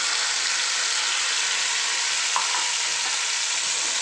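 Whole spices tempering in hot oil for a village-style vegetarian curry, giving a steady, close broadband sizzle that barely changes throughout, with one faint clink partway.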